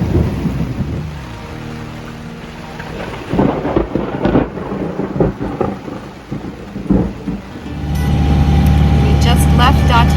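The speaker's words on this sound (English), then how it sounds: "with the heat came lots of stormy weather" Rolling thunder rumbles over steady rain, with a few louder cracks and booms, then the rain swells into a dense, close downpour.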